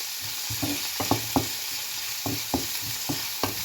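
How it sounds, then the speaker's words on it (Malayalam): Green chili, onion and garlic sauté in a pan under a steady sizzle, punctuated by regular scraping and tapping strokes of a spoon stirring them. "ഇപ്പോൾ പച്ചമുളകും സവാളയും വെളുത്തുള്ളിയും എല്ലാം ഒന്ന് ജസ്റ്റ് വഴറ്റിയെടുക്കാം"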